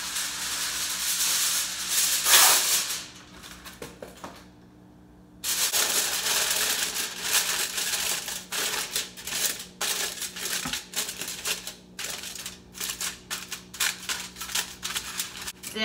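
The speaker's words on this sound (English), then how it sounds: "I'm going to take some aluminum foil and I'm going to line my" Aluminum foil is crinkled and pressed by hand to line a slow cooker for meatloaf. The crackling rustle runs steadily and close, with a loud burst early on, a brief lull, then denser irregular crinkles with no voices.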